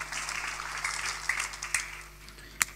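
Faint, distant applause from a church congregation during a sermon, a steady patter of clapping that rises briefly and thins out over a few seconds, with a sharp single clap near the end.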